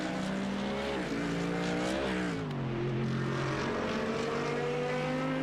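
A race car in a Le Mans endurance racing game drives through a chicane, its engine droning steadily and loud with pitch dips and rises as it slows and accelerates through the corners.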